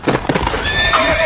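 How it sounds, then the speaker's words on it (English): A horse in a historical audio drama lets out a loud, close whinny with a rising, wavering tone, following a quick scuffle of hooves and commotion. "The damn horse, hold it!"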